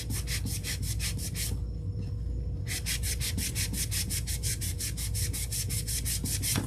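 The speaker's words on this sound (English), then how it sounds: "This is just a small little sanding block." A small sanding block rubs back and forth on scrap 4x4 wood in fast, even strokes, breaks for about a second, then picks up the same close, rhythmic scraping.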